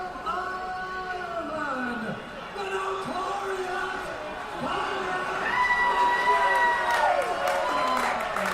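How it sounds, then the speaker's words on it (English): Arena crowd at UFC 229 roars and murmurs in a continuous wash of cheering, with a commentator's voice talking over the noise and the crowd swelling louder toward the end. "Listen to this crowd, ladies and gentlemen."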